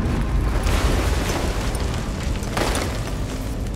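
A rigged building collapsing in Call of Duty: Modern Warfare 3, a loud sustained rumble of crumbling debris with heavy booming surges, close and continuous, no speech.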